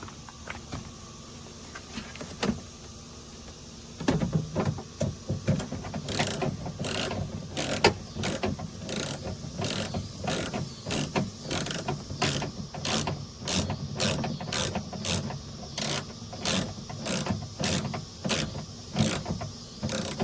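A ratchet clicks in rapid, regular bursts while bolts are tightened on a plastic exterior door handle of a 2013 Chevrolet Silverado 1500, close and fairly loud, with a quieter mechanical stretch before the steady clicking starts.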